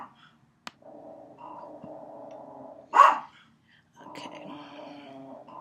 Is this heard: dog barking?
yes